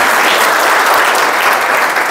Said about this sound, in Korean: 박수 한번 크게 치고 시작하겠습니다